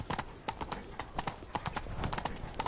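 Horse galloping in The Witcher 3, rapid rhythmic clip-clop hoofbeats, close and steady for the whole stretch, with faint game voices underneath.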